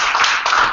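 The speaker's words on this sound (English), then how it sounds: "We give a round of applause there." Round of applause at a small Toronto.pm meetup, a short burst of clapping that is fairly loud and close, lasting under a second.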